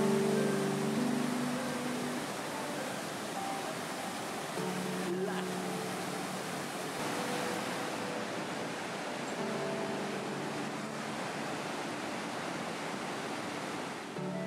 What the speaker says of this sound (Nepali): बाटोभरि छङछङ गर्ने छहराहरूले छिनछिनमै स्वागत गर्थे।